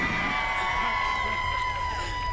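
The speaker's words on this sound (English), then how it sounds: "Lots of laughter and applause from the crowd" Crowd cheering and applause at a Michigan gubernatorial inauguration ceremony, a steady wash of loud crowd noise with whoops and cheers held throughout, with a sustained tone running underneath.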